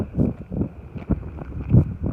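Wind gusting at a high lookout at Skytrek, Willow Springs, South Australia, buffeting the microphone in loud, uneven low rumbles with a steady faint tone above.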